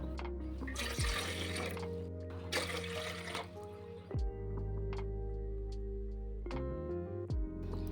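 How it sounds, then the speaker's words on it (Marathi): Water is poured from a glass into a metal idli steamer pot in a home kitchen, splashing bursts in two or three pours with ringing metallic tones, close and fairly clear. "त्यामध्ये आता मी 2-3 ग्लास पाणी ओतून घेते."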